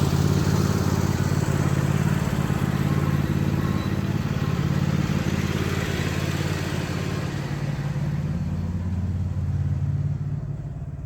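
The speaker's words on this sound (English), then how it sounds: "Alright, let me get the tractor away." A garden tractor's engine rumbles steadily at close range as it is driven away, its low drone holding for several seconds before fading near the end, with no speech.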